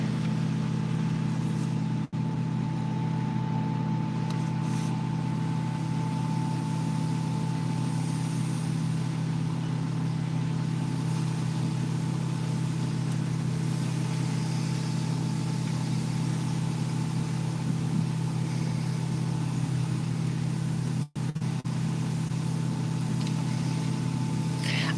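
A car engine runs nearby at a steady low hum beside railroad cabooses in Titusville, Pennsylvania, an unbroken drone that holds for the whole stretch with barely a change in level.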